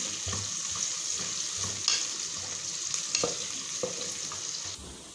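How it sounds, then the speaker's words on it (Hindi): Onions fry in hot oil over a low flame, a steady close sizzle broken by repeated scraping clicks of a spoon stirring the pan. "हमारा ऑयल गर्म हो चुका है, अब हम इसमें प्याज ऐड करेंगे।"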